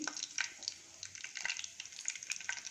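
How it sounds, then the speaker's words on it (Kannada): Mustard seeds, chana dal, urad dal, cumin and fenugreek spluttering in hot oil in a pan, a dense close sizzle with sharp popping crackles scattered throughout. "ಸಾಸಿವೆ, ಕಡಲೆಬೇಳೆ, ಉದ್ದಿನಬೇಳೆ, ಜೀರಿಗೆ, ಮೆಂತ್ಯ ಹಾಕ್ತಾಯಿದ್ದೀನಿ. ಇದೆಲ್ಲ ಸ್ವಲ್ಪ ಚಟಪಟ ಅನ್ನಲಿ."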